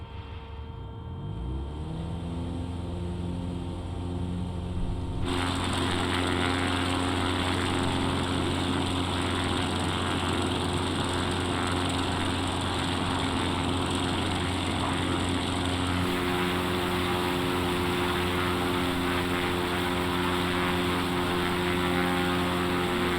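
An X Cub light aircraft's engine runs up to full takeoff power, a loud steady propeller drone that swells sharply after a few seconds and holds strong and continuous for the rest of the takeoff roll, with no talk over it.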